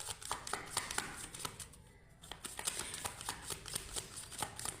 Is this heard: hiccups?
no